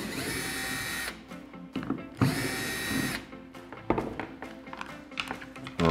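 Screws being driven out of a CrossBreed Reckoning gun holster with a small power driver, several bursts of whirring motor separated by short pauses and clicks, close and fairly quiet.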